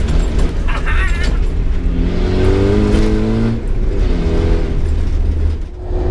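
A Land Rover Td5 110 Double Cab drives along with a steady, loud engine drone and rising and falling tones as it accelerates, heard from inside the cab with people talking over it.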